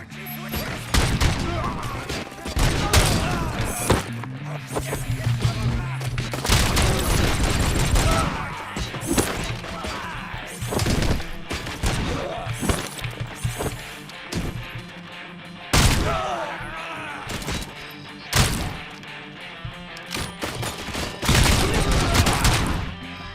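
A loud shootout in RoboCop: Rogue City, with dense bursts of automatic gunfire, sharp single shots and crashing impacts filling the whole stretch, and brief shouted voices between volleys.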